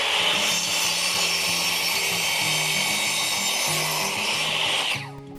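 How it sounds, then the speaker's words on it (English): A saw trims a couple of millimetres off a timber form board for a concrete step, cutting with a loud, steady rasping whine that drops off abruptly at the end. "I'm going to have to trim off a couple of mil on the saw"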